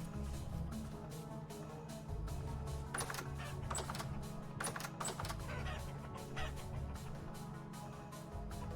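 Soft, game-like clucking from chickens over a steady low hum, with a few brief sharp clicks and taps scattered through the middle.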